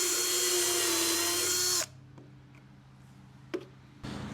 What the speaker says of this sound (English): now I've got the pocket holes drilled on the inside here all the way around